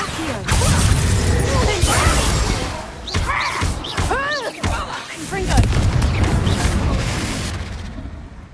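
The Confringo fire spell blasts in Hogwarts Legacy on PS5 with booming, crackling impacts, as a voice shouts over the fight.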